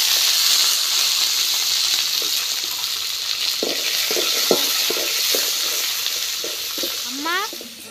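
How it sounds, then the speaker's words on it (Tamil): Shallots and curry leaves fry in coconut oil with a steady, close sizzle, broken by a few short stirring knocks and a brief rising squeak near the end; no one talks. "வெங்காயம் நல்லா வதங்கிருச்சு"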